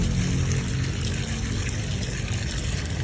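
Water pours steadily into a container until it overflows, making a continuous, full rushing and splashing sound with no speech.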